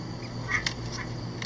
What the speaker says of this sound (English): Look at it. Baby duck.